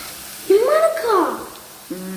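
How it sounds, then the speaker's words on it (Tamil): Onions sautéing in a pan for semiya upma give off a low, steady sizzle, with a few brief vocal sounds rising over it near the start and end. "கொஞ்சமாக சால்ட்டு போட்டுக்கோ, வெங்காயம் சீக்கிரம் வதங்கணும்."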